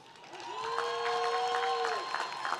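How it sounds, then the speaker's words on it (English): At a college commencement ceremony, a crowd applauds a reading with a soft, steady wash of clapping, partly masked by a sustained tonal sound and a cheer or two. "How about a round of applause for that reading?"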